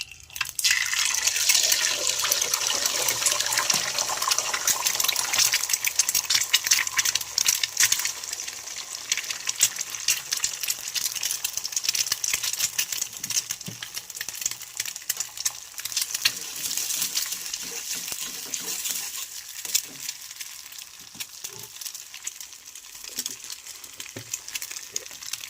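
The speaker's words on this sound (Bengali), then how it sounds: "তেলটা গরম হয়ে গেছে, আমি এক এক করে ডিমটা ছেড়ে দেব।" Eggs going one by one into hot oil in a pan, a loud burst of crackling sizzle at the start that settles into steady bright frying hiss with scattered pops, close and continuous, no talking.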